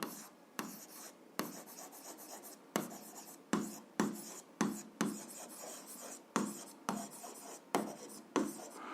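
A pen scratches a physics formula onto paper by hand in repeated short close strokes, each starting with a sharp attack and tapering off, with brief pauses between strokes in a quiet room.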